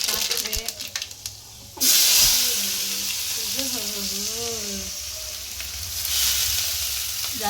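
Mustard seeds crackle and sizzle loudly in hot oil in a pan, a steady frying hiss that jumps up partway through, with a person talking over it.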